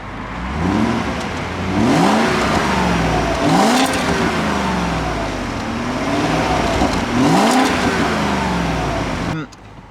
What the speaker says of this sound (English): This is stock exhaust before it gets welded.